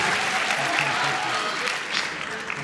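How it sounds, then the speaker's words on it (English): Applause and cheering from the audience at a furry convention dance competition, a dense, continuous clapping that fills the whole short stretch at steady volume. "applause for that one too"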